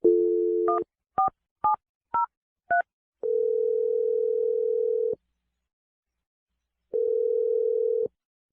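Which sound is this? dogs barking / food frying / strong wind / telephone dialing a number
telephone dialing a number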